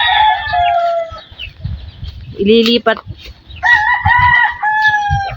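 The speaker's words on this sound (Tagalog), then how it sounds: "Kinukuha po yung mga manok na maliliit." Chickens clucking around small chicks being gathered up and moved, with a rooster-like call and loud nearby voices talking over the birds.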